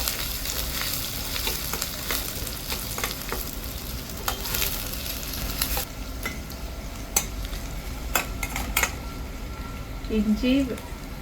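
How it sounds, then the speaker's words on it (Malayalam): Ginger, garlic, kanthari chillies and curry leaves sauté in a pan for carrot mango pickle. A loud, continuous close-up sizzle runs throughout with stirring scrapes and a few utensil knocks, and a voice is faintly present. "കാന്താരി മുളക്, കറിവേപ്പില ചേർത്ത് വഴറ്റുകയാണ്."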